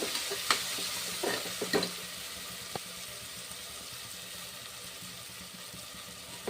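Smashed tomatoes frying in a pan for vegetable pulao, a soft continuous sizzle broken by a few sharp clicks and scrapes of a spoon stirring, close and quiet.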